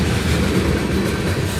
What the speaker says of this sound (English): We'll show you guys after this train ends.